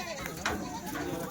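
Kathiawari goats bleating at a busy livestock market, with short close calls rising over a crowd of voices and people talking throughout.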